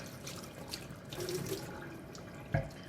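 Running water from a tap splashes steadily over a sharpening stone for a few seconds, rinsing it, with a brief louder splash near the end.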